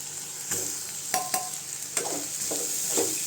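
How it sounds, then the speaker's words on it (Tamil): Grated coconut sautéing in a pan for mint chutney, with a steady soft sizzle and a few scraping stirs of a spoon against the pan, close by and fairly quiet. "தேங்காய் 1 நிமிஷம் மட்டும் வதக்கி கொடுங்க போதும்"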